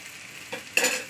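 Plantains with ginger garlic paste frying in oil and being stirred, a soft sizzle with two short scraping bursts near the end of a very short moment.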